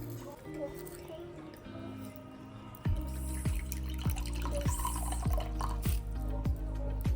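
Orange juice pours over chopped dates in a bowl for a Christmas fruit cake, a run of soft, regular liquid drips and splashes, close up, with someone speaking through parts of it.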